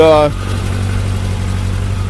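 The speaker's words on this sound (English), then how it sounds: "see the engine runs pretty smooth, right?" Diesel engine idling while warming up during brake bleeding, a steady low, smooth hum that continues after a brief voice at the start.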